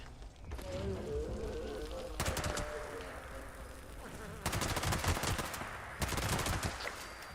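Bursts of rapid automatic gunfire in the video game Fallout 76 come in several loud clusters separated by short pauses, with game noise underneath.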